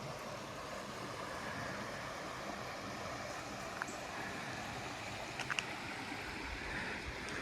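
A river flowing below a rocky ledge along a trail, heard as a steady broadband rush of moving water from a distance, continuous and fairly quiet, with a few faint clicks on top.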